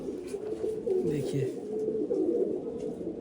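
Pigeons coo in soft, throaty rolling phrases under someone talking nearby, with the cooing continuing steadily throughout.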